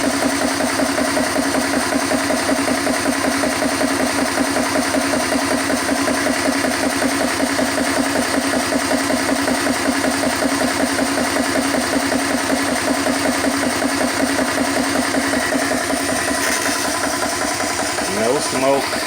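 A CS GX3 portable PCP air compressor refilling a small tank chugs at close range, its steady rapid mechanical pulsing continuing without a break.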